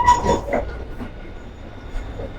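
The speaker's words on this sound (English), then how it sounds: "right behind me a 1940s tram car, a PCC vehicle" A 1940s PCC tram car in Boston, still in service, pulls in with a low rumble, light clatter and a faint high whine. The sound is steady and moderately close, with no talking.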